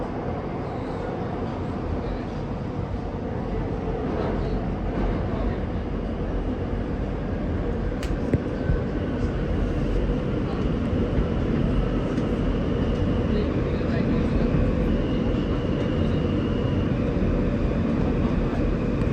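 An R160 New York subway car on a Second Avenue bound E train via the F line runs steadily, a continuous loud rumble and rattle from inside the car that holds for the whole stretch, with faint squeals.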